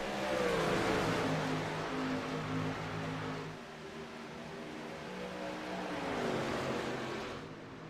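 Race cars run laps at Kansas, with a continuous roaring engine drone whose pitch rises and falls as they pass, steady and fairly loud throughout with no talking.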